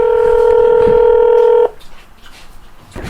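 A telephone call goes out from a Cameroonian TV studio: a loud, steady dialing or ringback tone holds for about a second and a half, then cuts off, leaving faint line noise.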